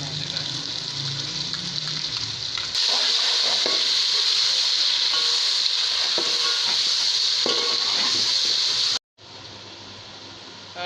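Steady, loud sizzling of garlic frying in hot oil with browned onions, with stirring and scraping of a pan, briefly cutting out near the end before resuming.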